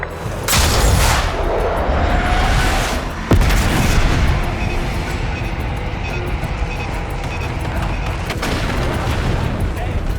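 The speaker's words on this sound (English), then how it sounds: "The airstrike's up." Airstrike explosions in the Black Ops 6 campaign. Heavy, deep booms roll in close together, with a sharp blast in the middle and rumbling debris and gunfire after, loud and close.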